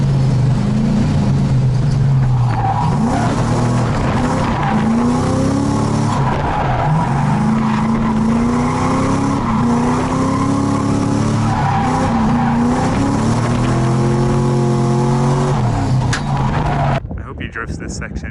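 A Mazda RX-7 FC running very low on oil drifts hard, its engine revving in rising and falling sweeps over a continuous loud tire skid that lasts nearly the whole stretch before cutting off abruptly near the end.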